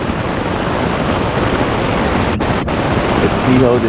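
Wind and surf roar during a thunderstorm on a remote island campsite, a loud, steady broadband rush that never lets up through the whole stretch.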